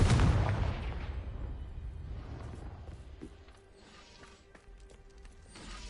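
Confringo spell blast in Hogwarts Legacy, one loud booming explosion at the start that decays into a rumbling tail, followed by quieter scattered crackles and faint clicks.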